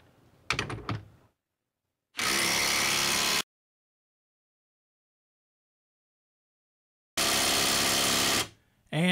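A Ryobi impact wrench fires in two separate bursts of about a second each during a torque test, loud and close, with silent gaps between and a brief clatter at the start.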